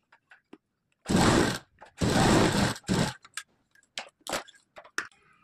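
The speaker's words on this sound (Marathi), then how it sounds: "स्टिच टाकायला सुरुवात करायची" A sewing machine stitches a strip onto a blouse in three loud bursts of rapid needle whirring, separated by short pauses and followed by scattered small clicks and taps.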